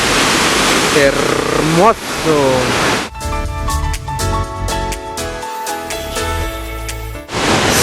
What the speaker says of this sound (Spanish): Segunda cascada